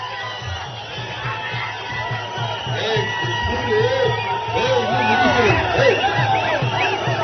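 A large crowd gathered at a political rally in Kolar roars steadily with cheers, whoops and shouts, a dense continuous wall of voices that swells slightly toward the end.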